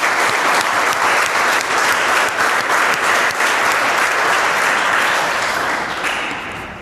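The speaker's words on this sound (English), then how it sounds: "Please clap for Swati." Students in a maths class applaud a classmate with steady, lively clapping from the whole room that holds for several seconds before fading slightly at the end.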